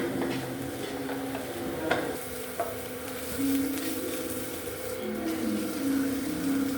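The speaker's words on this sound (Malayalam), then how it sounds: "നമുക്ക് നന്നായിട്ട് ഇളക്കി കൊടുക്കാം. നന്നായിട്ട് നമുക്ക് വരട്ടി എടുക്കണം." Chicken curry sautés in a pan with a steady sizzle, punctuated by a few sharp clinks and scrapes of a spoon stirring, the frying sound continuous throughout.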